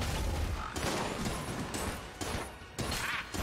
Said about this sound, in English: we've got one shot left in the railgun